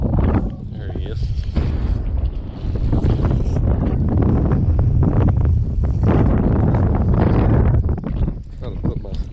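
Gusty wind buffets the microphone out on the water during a crappie fishing trip, a loud continuous rumbling roar with brief lulls, and someone talks beneath it.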